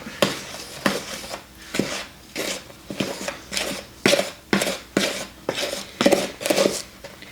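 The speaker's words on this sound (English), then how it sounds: "And I'm going to stir this all up." Blueberry muffin batter is stirred in a bowl, heard as a regular series of close scraping strokes with a spoon knocking the bowl's side, roughly one stroke per second, with no talking.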